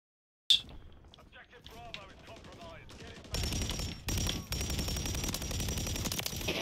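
A light machine gun fitted with a conversion kit fires in Call of Duty: Modern Warfare III, dense sustained bursts of gunfire running loud through the second half after quieter movement sounds and clatter.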